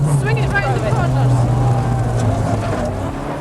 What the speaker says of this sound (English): really get the car by the scruff of the neck and swing it round the corners